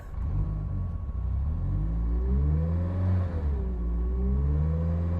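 A Mitsubishi Lancer Evolution VI with a sequential gearbox revs up from a steady rumble, pitch rising and falling over a few seconds, loud and close with no talking.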